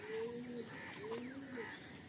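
A single female Fulsira pigeon gives a few soft, low cooing calls in short repeated phrases, close by but faint, over light background noise.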